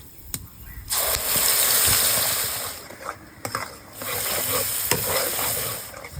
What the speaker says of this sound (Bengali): ওই তেলে কিছু গোটা মশলা ফোড়ন দেবো ফোড়নের মধ্যে আছে এলাচ দারচিনি গোলমরিচ আর তেজপাতা গোটা মশলাগুলো একটু ভেজে নেব